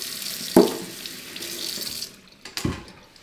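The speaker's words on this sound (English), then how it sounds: "So what I usually do is just wash the sweet potato" Kitchen tap water splashes into a sink while a sweet potato is rinsed under it, a close, soft running stream with brief louder gushes and splatters.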